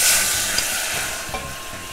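Ingredients sizzling in a saucepan, a steady bright frying hiss with faint stirring clicks, close and moderately loud, alone without talk.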